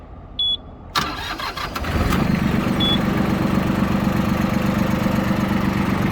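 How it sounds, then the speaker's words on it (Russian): A mechanical click and whir, then a Mitsubishi MT241 diesel tractor engine cranks and catches, settling into a steady, loud idle close by. "Очень прикольно трактор запускается."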